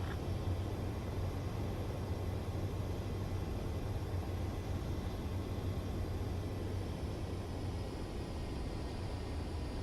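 Fighter jet in Ace Combat 7 flies in to land, a steady, dense engine roar with a low hum holding evenly for the whole stretch, with no voices over it.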